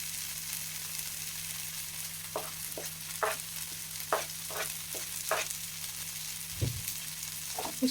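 Greens and grated coconut being stirred in a pan for a dry upsaru soppu palya, with scattered scraping strokes over a steady low hum and faint sizzle, and no voices.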